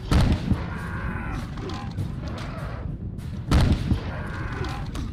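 Two heavy gunshots boom through the Obscure video game, one at the start and another after a few seconds, over a dense, rumbling game soundscape.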